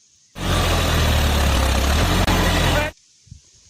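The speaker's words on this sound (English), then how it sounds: "Wow, John Deere tractor." A toy John Deere tractor plays a loud, steady electronic engine rumble for a few seconds, then cuts off abruptly to near silence.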